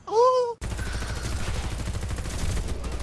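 Rapid, dense bursts of gunfire in the shooter game Warface keep going for several seconds, right after a brief tonal cry at the start.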